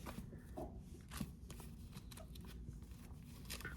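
Yu-Gi-Oh! trading cards are shuffled by hand at close range, a steady run of soft papery riffling and shuffling with a few sharper snaps, heard alone without talk.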